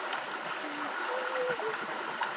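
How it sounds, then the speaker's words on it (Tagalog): Natural spring stream flowing, a steady soft babble of water close by with faint splashy trickles, continuous and moderately quiet. "Dito sa Sapa."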